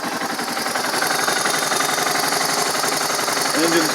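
A stock-exhaust 2008 Suzuki DR650 motorcycle idles after a cold start, a steady close, even thumping rumble that holds level throughout with no revving.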